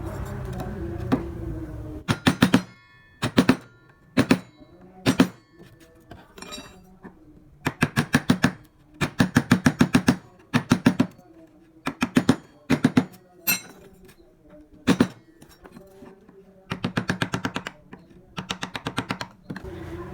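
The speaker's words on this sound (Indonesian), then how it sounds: "kita rapikan bagian pinggir-pinggirnya menggunakan pahat kol" Chisel tapping on wood during traditional carving, trimming the edges with a gouge chisel: repeated bursts of sharp mallet-on-chisel knocks in quick rhythmic clusters, separated by short pauses, close and clear with no talk.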